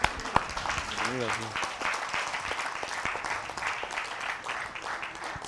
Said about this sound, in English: Give Mr. Yahuwah a hand clap